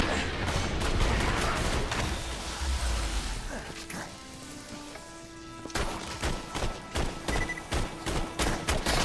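Rapid gunfire in the Borderlands 2 video game, with dense bursts of shots at first, a quieter stretch, then a renewed rhythmic volley of loud blasts.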